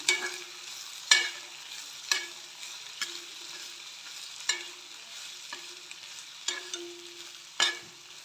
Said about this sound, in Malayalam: ഇതിൽ ഞാൻ കുറച്ച് വെളുത്തുള്ളി ഇഞ്ചി പേസ്റ്റ് ഇട്ട് കൊടുക്കുന്നു. എല്ലാം നല്ലോണം വഴറ്റിയെടുക്കുക.